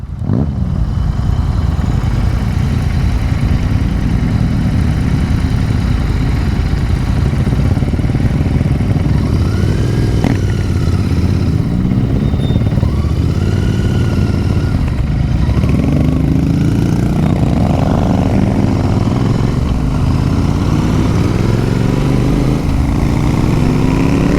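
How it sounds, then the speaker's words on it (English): Loud, continuous Royal Enfield motorcycle engine rumble with a throaty aftermarket exhaust, revving and shifting pitch at times over a long steady run. "Gazza's exhaust there, they're Tech exhausts"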